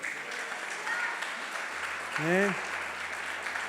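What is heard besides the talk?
congregation applause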